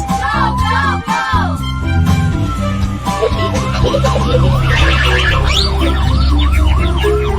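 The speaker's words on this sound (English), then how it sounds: "White ambulance." A wailing siren cycles up and down repeatedly, loud and close, joined by a faster yelping pattern over a rumbling background.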